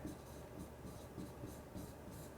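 Marker or chalk writing on a board during a criminal procedure law lecture, faint rhythmic scratching strokes in short repeated bursts over a low steady room hum.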